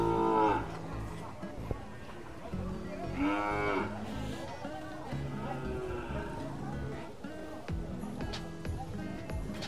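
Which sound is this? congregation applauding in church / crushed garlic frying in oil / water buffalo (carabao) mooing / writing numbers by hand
water buffalo (carabao) mooing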